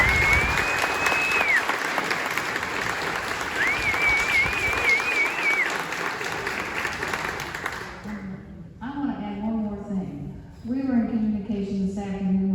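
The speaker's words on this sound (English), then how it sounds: "One more round of applause." A crowd at a local political event with a city mayor and candidates gives a sustained round of applause for about eight seconds. Then the clapping fades and someone speaks into a microphone.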